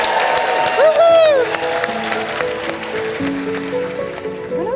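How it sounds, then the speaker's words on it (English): Applause from a dinner celebration crowd, broad clatter of clapping filling the room while a voice talks over it with rising and falling intonation. "Stand up, and we're going to have a huge round of applause."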